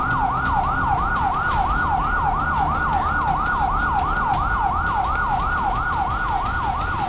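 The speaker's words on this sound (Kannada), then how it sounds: "ಆಂಬ್ಯುಲೆನ್ಸ್ ಫೋನ್ ಮಾಡಿ." An ambulance siren wails continuously with a rapid, regular rising and falling tone, loud and close, over traffic noise in a jam.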